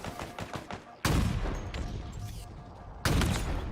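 Rocket launcher fire in Halo Infinite multiplayer: two loud, booming blasts about two seconds apart, each with a long rumbling tail, over busy background game noise.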